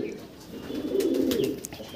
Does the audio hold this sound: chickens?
no